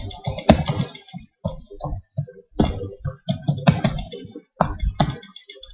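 Computer keyboard typing while a batch file is written: quick clusters of close, crisp key clicks with short pauses between bursts, heard alone with no voices.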